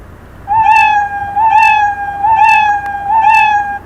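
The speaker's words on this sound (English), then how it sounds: "Play sound meow." The Scratch 3.0 cat meow sound plays four times in a steady, evenly spaced series, each meow clear, loud and close with a rising then falling tone.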